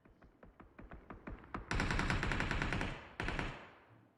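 Gunfire in a PUBG Mobile scrim match: a string of evenly spaced single shots speeds up into loud, dense automatic bursts, pauses briefly, then another burst fades out.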